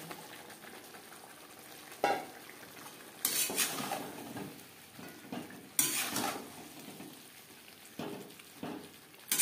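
Potatoes and partly boiled cauliflower stirred with spices in a pan over a high-to-medium flame: repeated loud scraping and clattering of a spatula against metal over a continuous sizzle, with bursts of stirring between quieter moments; no voices.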